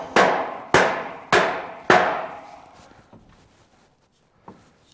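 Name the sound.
tin tapped back into place on a DIY sheep race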